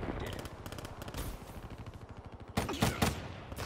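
Black Ops III multiplayer gunfire comes as a fast, continuous automatic burst of sharp close shots. Louder, heavier blasts break in near the end.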